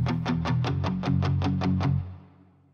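Distorted electric Sunburst guitar run through a Screamer overdrive with added saturation and reverb, playing a steady run of about ten evenly spaced, loud strummed or picked hits, then ringing out into a reverb tail.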